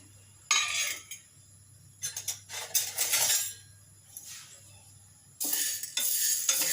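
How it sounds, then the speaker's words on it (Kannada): Mixed lentils and legumes being dry-roasted in a pan, with bursts of scraping and stirring, grains rattling against metal in several loud stretches separated by quieter pauses, close up. "ಕಾಳುಗಳೇನಿದೆ ಫಸ್ಟ್ ಇದನ್ನ ಹುರ್ಕೊತೀನಿ"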